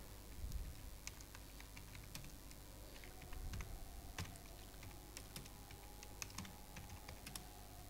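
Typing a school name on a computer keyboard for a project front page, a steady run of light, close key clicks over a faint room hum, with no talking.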